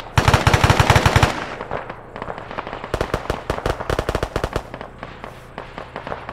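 Rapid automatic gunfire in the military shooter game Arma 3 during a milsim town operation: a dense sustained burst, then a pause and a second string of sharp repeated shots, loud and close, with no talk.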